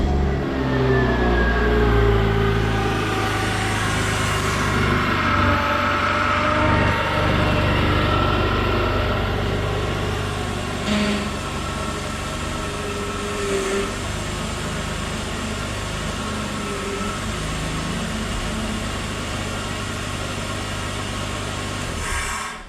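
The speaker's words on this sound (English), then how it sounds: "let's start the car and see if the fluid level goes down" A car engine starts and settles into a steady idle after a new power steering suction hose is fitted, close and loud at first with a brief rev, then a continuous even hum that eases slightly, with no talking.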